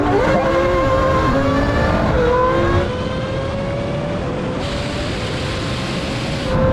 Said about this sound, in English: Now we can have a rolling race in second gear from around 50.